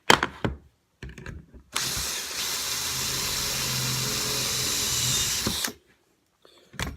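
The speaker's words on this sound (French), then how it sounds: "on va pouvoir percer grâce au gabarit où il y a le petit trou ici pour la mèche" Power drill boring a hole through a Lamello Clamex drilling jig into wood, a steady loud whir of about four seconds, preceded by a few short handling knocks and followed by quiet.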